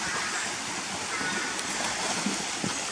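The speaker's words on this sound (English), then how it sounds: "It's just a little white rapid waterfall just further on the corner there." Janet's Foss, a small white rapid waterfall, roars as a steady broadband wash of falling water heard close by along a rocky path, with faint splashes and no speech.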